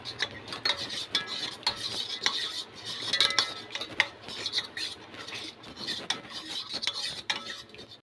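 A spoon mixes ragi ambali with buttermilk in a metal vessel, steady close clinking and scraping strokes with a sloshing rhythm, no talk.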